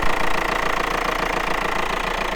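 A VW Passat TDI diesel engine idles at close range, running a little loud with a steady, even, rapid knocking pulse.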